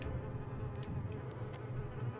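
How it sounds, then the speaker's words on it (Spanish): Several flies buzz steadily and close by in Little Nightmares 2, a soft continuous drone with brief louder passes, all fairly faint. "Hay muchas moscas"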